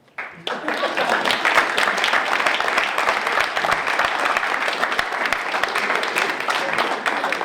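Sustained applause from a large audience at a Kwanzaa celebration, steady and loud, starting abruptly and continuing without a break.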